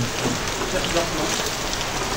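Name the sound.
heavy rain getting stronger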